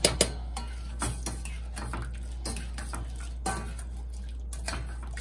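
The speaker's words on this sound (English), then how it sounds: "we're just gonna be adding our brown sugar now. And we're gonna be stirring it as we're gonna be adding it" A spoon scrapes and clinks against a pot as brown sugar is stirred into a pineapple glaze, giving quiet, irregular taps and scrapes over a low steady hum.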